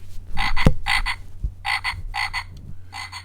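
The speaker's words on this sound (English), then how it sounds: "The frog likes it." A frog croaks in a series of loud, close, raspy bursts, about five in a row at an uneven rhythm with brief pauses between, over a faint low background hum.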